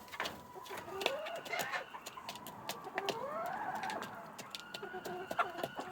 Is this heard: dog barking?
no